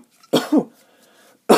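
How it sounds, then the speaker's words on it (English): A single close cough from a person with hay fever, made of two quick bursts. It is followed by a short pause and then the start of another sound. "apologies for that cough"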